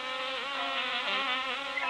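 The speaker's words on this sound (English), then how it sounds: "The bees were the last to go in" Bees buzzing as a story sound effect, a dense steady insect drone held for two seconds with no voices.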